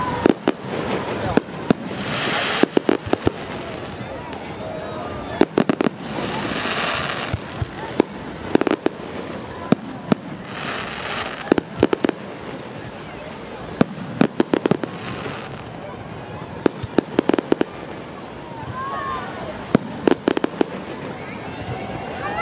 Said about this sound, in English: there's fireworks behind us